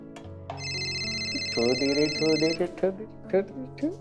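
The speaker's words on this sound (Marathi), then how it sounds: "ऑफिस मधनं फोन जरा बघ." A mobile phone rings with a call from the office: a sustained melodic electronic ringtone with layered steady tones, and people talking over its later part.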